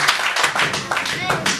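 A church congregation claps in steady rhythmic bursts to acclaim God, loud and close, with voices running over the clapping.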